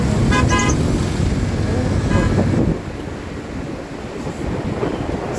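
Road traffic near a market in Lower Antipolo, heard from a motorcycle: a steady wash of engine and wind noise with a short horn toot near the start, the rumble loud for the first half and then dropping to a lower, gustier level.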